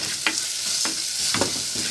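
Egg curry stirred in a pan, a spoon scraping through it in several separate strokes over a steady low simmering hiss, close and moderately loud with no talking.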